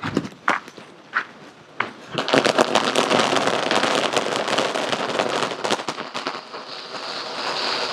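Sivakasi novelty emu-hen firecracker that 'lays eggs' goes off: a few sharp pops, then a dense, loud crackling and fizzing that runs continuously for several seconds, close by.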